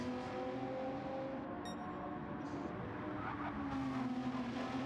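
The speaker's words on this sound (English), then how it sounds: "If you are asking yourself why the Renault RS01 sounds pretty similar to the Nissan GT-R," Renault RS01 race car in Gran Turismo, sharing its engine with the Nissan GT-R, droning at a steady pitch during a GR3 race at Brands Hatch, with brief tire squeal and other cars nearby.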